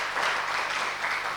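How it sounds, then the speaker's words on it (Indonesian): A church congregation claps together in a brief, dense burst of applause during a sermon, sounding even and fairly close. "tepuk tangan bagi Yesus"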